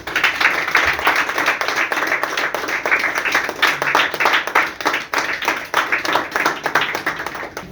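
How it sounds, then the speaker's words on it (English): An audience at a ceremony for top JEE rankers gives sustained applause, many hands clapping in a dense, lively, continuous burst that stays fairly loud throughout, with faint voices underneath. "Big round of applause."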